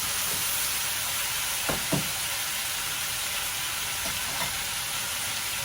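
Carrots and potatoes sizzle in a frying pan with a steady, bright hiss, broken by a couple of soft knocks from stirring.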